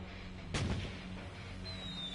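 A firework explosion booms in the Lost Judgment video game, one sharp blast ringing over a steady dense background of game sound.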